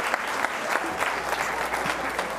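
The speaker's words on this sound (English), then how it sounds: "Give a round of applause, everybody." An audience applauds steadily for a couple of seconds, a dense wash of clapping hands with no voices on top.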